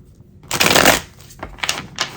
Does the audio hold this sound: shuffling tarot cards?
yes